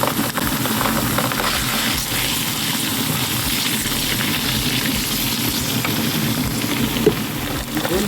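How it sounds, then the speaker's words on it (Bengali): Onion sautéing with ginger garlic paste in a pan for chicken keema with peas, a dense, steady close sizzle with faint stirring underneath throughout. "কিমা মটর করার জন্য আমি পেঁয়াজটা একটু সটলে নিলাম"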